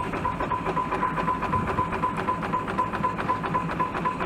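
A 75 HP Case steam traction engine runs at a steady idle, with a rhythmic chuffing pulse and a constant mechanical hum throughout.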